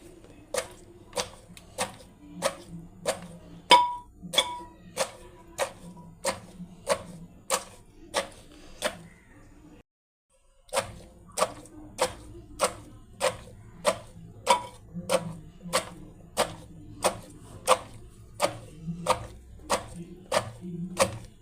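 Garlic cloves and green chillies being pounded together for a mango pickle, a steady run of sharp, evenly spaced thuds with one brief pause partway through, close and fairly quiet with no talking.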